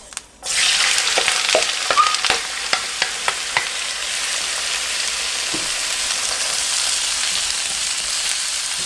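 Artichokes and crushed garlic hit hot olive oil over medium heat, bursting into a loud, close sizzle with a few quick clinks and stirs early on, then settling into a steady frying hiss.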